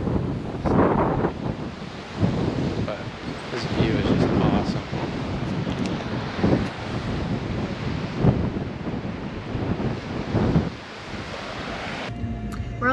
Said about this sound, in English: it's been really windy today, so we just kind of been taking it easy